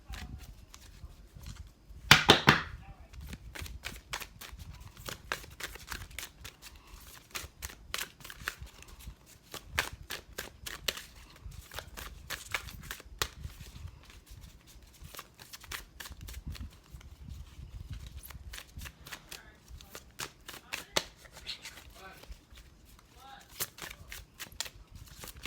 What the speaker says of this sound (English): we're going to go ahead and just shuffle the cards